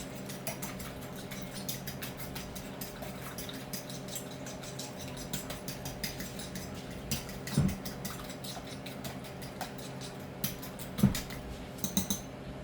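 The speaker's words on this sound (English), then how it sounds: "and I'll beat the egg" An egg being beaten in a bowl for breading chicken cutlets, a steady fast patter of faint light taps with a few sharper knocks against the bowl, close and quiet over a low kitchen hum.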